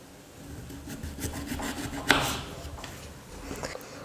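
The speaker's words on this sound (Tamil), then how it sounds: "இப்போ இது எல்லாத்தையும் இந்த மாதிரி ரெண்டாக எடுத்து நல்லா மெல்லிஸாக கட் பண்ணிக்கணும்." A knife cuts potatoes into very thin slices for a snack, soft scraping and rubbing strokes against a board with one sharper cut near the middle, close and quiet, with no talk.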